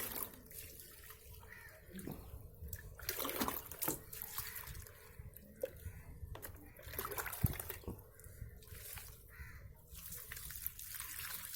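Water pours steadily into a container holding a freshly transplanted Areca palm, a continuous splashing wash with occasional outdoor noises in the background.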